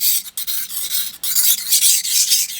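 A knife blade is pushed along a King whetstone, making close, loud, gritty rasping strokes in a repeated back-and-forth rhythm with brief gaps between passes.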